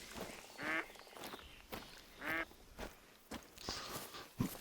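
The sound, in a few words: ducks quacking in video game Hunter Call of the Wild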